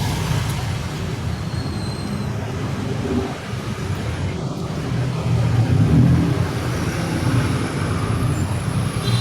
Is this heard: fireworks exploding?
no